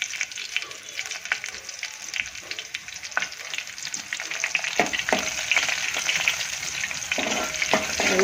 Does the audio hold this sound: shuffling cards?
no